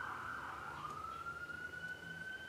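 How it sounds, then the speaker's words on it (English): A faint siren wails steadily outdoors, its pitch sliding slowly upward as it passes at a distance over low background hum. "siren happens while you're recording a video"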